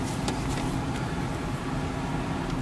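A 1997 Lincoln Town Car with 83K original miles on a test drive, a steady, fairly loud interior drone of engine and road noise with no talk.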